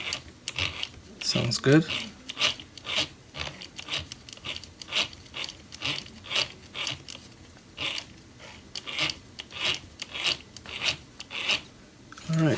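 Steel spur gear on a Traxxas TRX-4 Sport crawler whirring and clicking in a steady rhythmic pattern as the drive shaft is spun by hand, close up, with brief talk.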